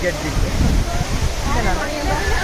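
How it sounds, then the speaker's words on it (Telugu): Kothapalli waterfall, a broad steady rush of falling water heard close and fairly loud, an unbroken hissing roar with low churning underneath for the whole moment. "వాటర్ ఫాల్స్ బాగానే చాలా బాగున్నాయి"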